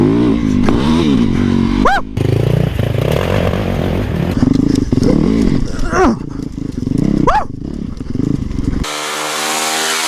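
A supermoto motorcycle revs hard and accelerates up close, its engine note climbing in rising sweeps with whoops and shouting over it, then the engine drops to a steady rumble at the end.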